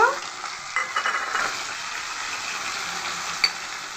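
A sautéed mix of onion, garlic, ginger, green chilli and tomato paste sizzles steadily and close by in a pan, with a few scraping stirs near the start and one sharp tap later on.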